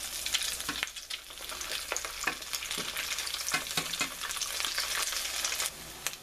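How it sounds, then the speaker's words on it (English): Fried cheese grits cakes crackle in hot oil in a pan, a dense continuous sizzle close up with scattered sharper pops and spatters and no talking. "It doesn't really take them that long to fry."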